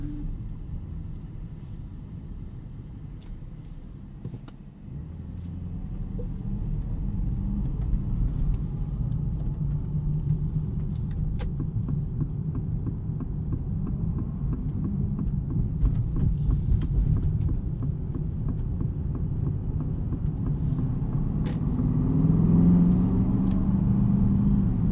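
A 2024 Aston Martin DBX 707 with a 697 hp AMG engine driven slowly around a parking lot in GT mode, giving a steady low, quiet engine rumble inside the cabin that swells slightly toward the end, with no talking.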